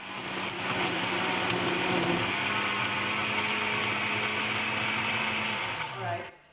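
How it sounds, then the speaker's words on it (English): A blender runs continuously, whirring loudly and close as it purées dates, bananas, citrus rind and vanilla extract for a vegan porridge, winding down at the end; music plays faintly underneath. "I've just blended my dates, bananas, and rind with the vanilla"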